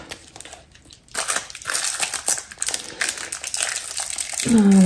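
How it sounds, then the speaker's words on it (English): Cellophane is peeled and crinkled off two pieces of cloth, producing loud, continuous close-up crackling and rustling that builds over several seconds. "I'm going to take all the cellophane off each."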